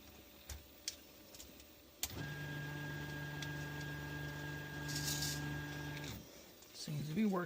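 A 3D printer feeds filament through its extruder and tube out to the hot end, with a steady motor whine humming continuously for about four seconds between faint clicks and handling noises.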